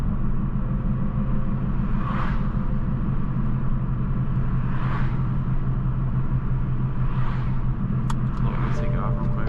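A modified 500HP Supra or GTR engine rumbles deep and steady from inside the car during a night city drive, with a few swelling revs rising over the drone.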